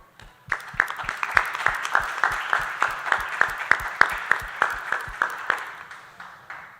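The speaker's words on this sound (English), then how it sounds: "Round of applause for round 4." An audience at a cyber games draft day event claps in a sparse, rhythmic pattern of distinct hand claps, roughly two or three per second, close and fairly clear before fading out at the end.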